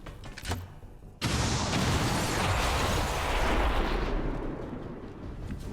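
A car explodes in the turn-based tactical game Long War of the Chosen, a sudden loud blast after a quieter second that settles into a sustained roaring, crackling rumble with no voices.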